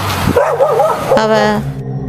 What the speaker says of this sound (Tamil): அந்த பொண்ணுடைய அம்மா வீட்டில் சுற்றி நாய்ங்க பயங்கரமாக குறைச்சிக்கிட்டே இருக்கும்